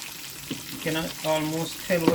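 Kingfish frying in hot oil, Caribbean style, a soft continuous crackle and sizzle close by, with a voice talking over it in short phrases.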